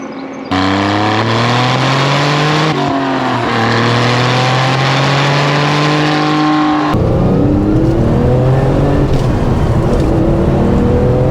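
Porsche 911 Turbo engine pulling hard from inside the car, a steady loud rising drone through two gear changes, then a rougher, noisier stretch of road and wind roar.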